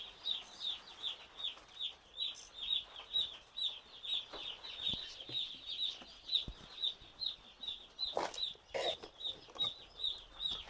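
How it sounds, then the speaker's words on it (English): Baby chicks in a brooder peep in rapid, continuous high chirps, a busy overlapping chorus of small birds with a few louder clatters near the end. "5 seconds, you are done with placing in your chicks."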